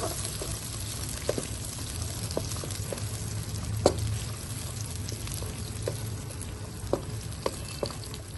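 Sliced onions frying gently in a pan, a steady close sizzle throughout with occasional sharp clicks of a spatula stirring them; no speech.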